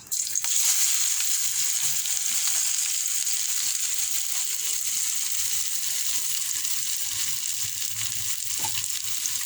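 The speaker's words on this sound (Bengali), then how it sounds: "গরম মশলা ফোড়ন দিয়ে পেঁয়াজটা ভাজতে দিয়ে দেবো।" Steady hissing sizzle of onions frying in hot oil with whole spices, continuous and close, with faint occasional clinks and no talking.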